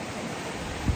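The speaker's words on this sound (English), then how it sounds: "Getting smashed around to the side and pushed around by waves." Choppy ocean waves slosh against a sailboat at sea, a continuous broadband wash with wind-like hiss and a brief low thump as water strikes the hull near the end.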